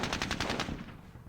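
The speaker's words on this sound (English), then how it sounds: "Let's fire with machine gun." Rapid machine gun burst in the Squad Battles Winter War wargame, a quick string of loud sharp shots that fades into a decaying echo, with no talking.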